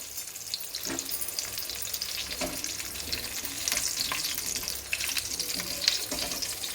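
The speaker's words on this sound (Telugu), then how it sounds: "ఇప్పుడు ఇవి మనము కొంచెం బ్రౌన్ అయ్యేదాకా ఫ్రై చేసుకోవాలి." Spiny gourds sizzle as they fry in about a tablespoon of oil in a pan, a steady close hiss with occasional stirring scrapes and no talking.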